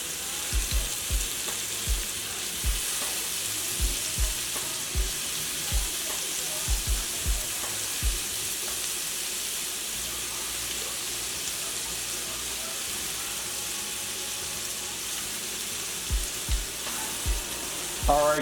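Cajun-seasoned shrimp fry in butter and olive oil, giving a continuous moderate sizzle broken by repeated soft knocks and taps from the pan, with no clear talking.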